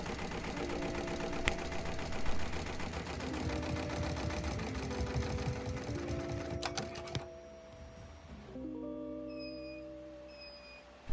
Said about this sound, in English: So here I am embroidering the Leo glyph on the back of the beanie